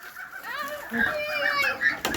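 Clucking and squawking of large grey geese and mulard ducks at dusk, several birds calling over one another at close range, with a human voice briefly in the mix.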